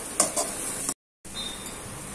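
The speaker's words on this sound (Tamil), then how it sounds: "இப்போ இதுலேயே நம்மளுக்கு சூடாக வச்சுருக்க சாதத்தை போட்டு நல்லா கிளறிடணும்." Cooked rice with sautéed coconut and carrot being stirred in a hot pan, a soft sizzle with scraping spoon strokes close by, cut by a brief silent gap partway through.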